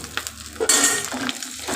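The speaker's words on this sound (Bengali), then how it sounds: "দিয়ে ভালো করে নাড়াচাড়া করছি" Egg chowmein noodles stirred and tossed in a hot frying pan, a steady sizzle with scraping strokes of the spatula against the metal, close and fairly loud.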